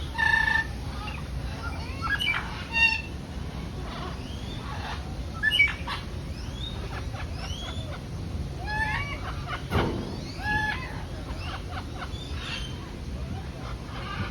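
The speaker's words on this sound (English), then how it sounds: "There's some birds." A dense chorus of birds in a small aviary in Cartagena, Colombia: many overlapping chirps, whistles and short calls at moderate distance, continuous for the whole stretch over a steady outdoor hum.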